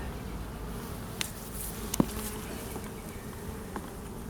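A low, steady hum of many bees buzzing in an open hive during an inspection, with a few faint knocks and a sharp click over the drone.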